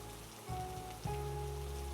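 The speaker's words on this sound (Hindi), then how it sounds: "सिर्फ बारिश की आवाज रह गई।" Steady rain falls around an old temple at night, a dense, even hiss with low rumbling beneath, growing slightly heavier partway through and continuing without voices.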